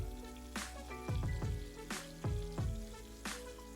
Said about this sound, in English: Now let your onions fry up in the oil.